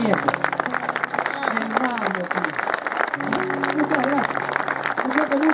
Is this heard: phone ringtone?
no